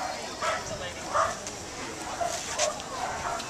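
A dog barks a few short times at an outdoor public presentation, the yips rising over steady crowd chatter and people talking nearby.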